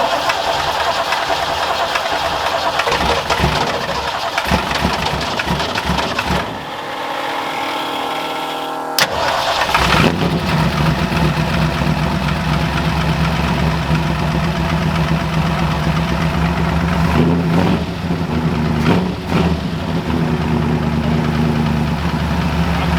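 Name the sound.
Ford F100 pickup truck engine starting and idling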